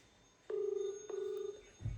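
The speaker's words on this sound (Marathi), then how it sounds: "1 मिनटं फोन लागत आहे मी" A phone call rings out on the line: one steady, fairly loud ringback tone of about a second after a short quiet start, with no talking.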